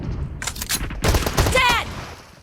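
Gunfire from the mobile battle game PUBG Mobile bursts in loud, close blasts, several shots in quick succession with a short tonal cue partway through.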